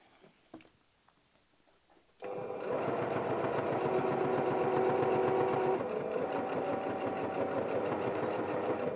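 After about two seconds of near quiet with small clicks, a domestic sewing machine starts up and runs steadily, stitching a shirt ruffle with a back stitch. It makes a loud, close, rapid mechanical chatter that holds for the rest of the clip.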